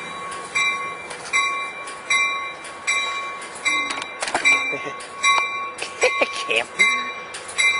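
A Coaster commuter train passes Oceanside station with a rhythmic run of wheel clacks over a steady ringing tone, fairly close, while onlookers talk briefly.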